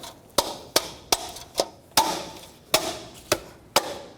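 Eight sharp taps seat a wheel center cap onto a 2011-2016 Ford F350 Super Duty wheel, each a close, crisp knock with short ringing decay, spaced at a steady, slightly uneven rhythm.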